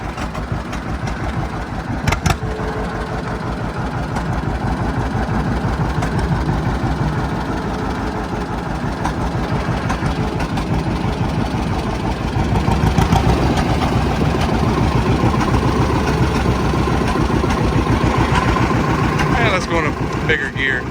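A John Deere 60 tractor's engine runs steadily in gear, a close, continuous low chugging pulse throughout with a slight surge partway through; no one speaks over it.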